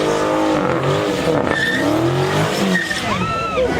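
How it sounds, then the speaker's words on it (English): At a crowded car meet, a car with a 392 engine keeps driving on bare rims after its tires pop, giving off harsh, wavering metallic screeches and grinding over engine noise, with voices in the background. "You pop your tires and you're on rim and you keep it going."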